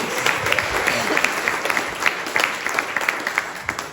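A community meeting audience applauds, steady moderate clapping from a small crowd indoors, with light talk under it.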